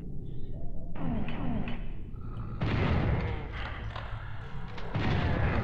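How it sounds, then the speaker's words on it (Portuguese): Gunfire and heavy thuds from the PlayStation game Final Doom on Ultra Violence difficulty, several loud booming shots and impacts in bursts, with a quiet game background between them. "o cara me deu um tiro ainda antes de morrer"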